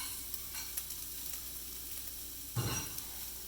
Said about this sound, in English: my cast iron is hot, and I'm gonna throw in there my red peppers and my onions